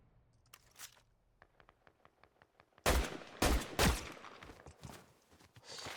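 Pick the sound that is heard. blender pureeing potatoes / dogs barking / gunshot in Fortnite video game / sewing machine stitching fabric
gunshot in Fortnite video game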